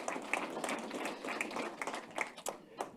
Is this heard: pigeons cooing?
no